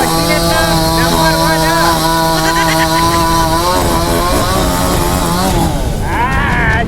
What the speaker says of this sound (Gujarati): આ મશીનનો અવાજ તો હેલિકોપ્ટરનો